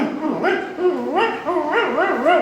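A performer's voice imitates a puppy barking and whimpering on stage at an anniversary event, with a string of high, wavering yips and whines that rise and fall in pitch, close and fairly loud.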